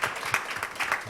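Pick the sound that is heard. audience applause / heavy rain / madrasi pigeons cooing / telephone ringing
audience applause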